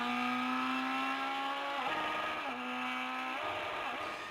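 Firehawk hillclimb race car powered by a Suzuki Hayabusa 1600cc engine, screaming at high revs close by, with three sharp gear-change dips as it pulls hard up the hill.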